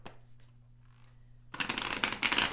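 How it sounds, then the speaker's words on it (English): Tarot cards are shuffled close by: a quiet moment with a faint tap, then a burst of rapid riffling and flicking for about a second, with no talk. "I'm going to go ahead and just get the cards to see what it says."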